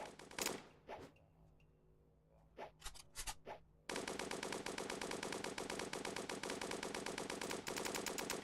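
Gunfire from the video game GTA Online, fired from the hip: a few separate loud shots and short bursts, then sustained rapid automatic fire continuing to the end.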